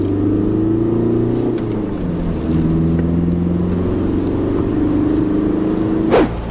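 Volkswagen Passat B5 1.9 TDI diesel engine pulls steadily under acceleration, a loud continuous low drone with rising and shifting tones heard from inside the car, with a brief bump near the end.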